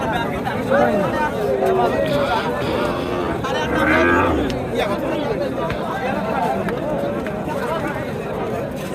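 Cattle, including bull calves, low and moo at the Jobaria livestock market amid a dense hubbub of crowd chatter, with a louder, nearer moo standing out midway over the continuous babble.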